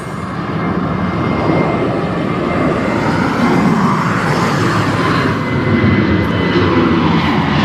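A Ryanair jet airliner roars loudly and steadily at East Midlands Airport, a broad sustained engine rumble with a rising whine that holds throughout, no talk.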